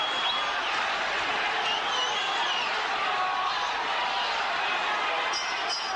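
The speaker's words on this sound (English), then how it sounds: "Bell for the end. Listen to the crowd. Oh boy, listen to it." A packed boxing arena crowd roars as the bell ends the 13th round of a title fight, a dense, unbroken wall of cheering and shouting that holds steady and loud throughout.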